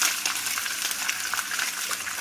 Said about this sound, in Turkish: Onları şöyle hafif ateşte kızartacağım.